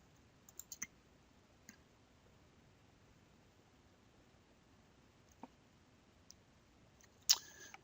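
Computer mouse clicks while working in Lightroom and Photoshop, a few faint isolated clicks scattered across a quiet room, one sharper click near the end, no talking.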